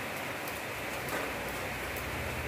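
Rain falling steadily in Lumajang, Indonesia, during work on a Kijang KF 50/52 vehicle, a dense, constant hiss of drops on surfaces, close and even throughout with no talking.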